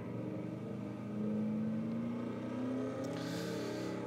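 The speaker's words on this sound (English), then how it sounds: "And then the 43 car will come by sliding." Race car in a stock car racing video game sliding by after a big crash, a rumbling engine drone with a rising tonal whine that swells and then fades.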